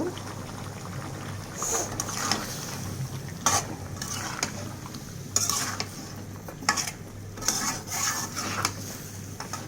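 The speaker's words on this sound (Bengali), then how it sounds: "এবার সিম দিয়ে দিলাম সিম দিয়ে আরও কিছুক্ষণ কষিয়ে নিয়ে পরে মাছ দিয়ে দেব" Flat beans and potatoes stir-fry in a pan for a kalbaush fish curry: a low sizzle runs beneath repeated metal spatula scrapes and clinks that come in uneven bursts.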